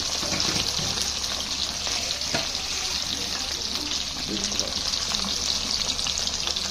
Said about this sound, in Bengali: এখন চিংড়ি মাছ ভাজা হচ্ছে